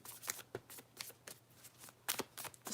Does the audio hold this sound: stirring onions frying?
no